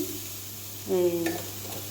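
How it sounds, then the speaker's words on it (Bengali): Vegetables frying in a pan, with a soft steady sizzle and a brief scrape of stirring near the middle, close and moderately loud. "এদিকে সবজিগুলো ভাজা হয়ে গেছে"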